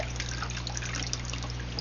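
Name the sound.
water being poured into air purifier tank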